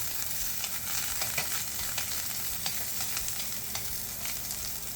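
Rosemary and thyme sizzle in a hot pan beside seared halibut, a steady close frying hiss dotted with small crackles and pops, with no talk.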